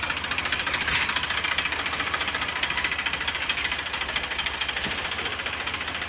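A Deutz-Fahr tractor loading river sand runs its diesel engine steadily and loudly close by, a continuous rough knocking drone without break.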